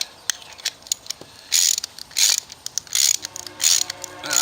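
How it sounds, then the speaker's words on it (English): A hand ratchet cranks a one-inch nut with a fender washer onto a bolt in module construction, giving quick crisp clicks in short bursts, close and loud, with brief pauses between strokes. "Take our ratchet,"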